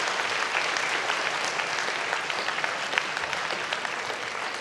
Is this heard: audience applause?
yes